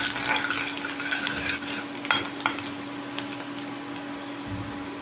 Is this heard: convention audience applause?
no